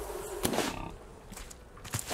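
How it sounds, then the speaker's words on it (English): Bees in the survival game Raft give a faint, wavering buzz near the start, broken by a few short clicks and knocks from play. "Got some more bees."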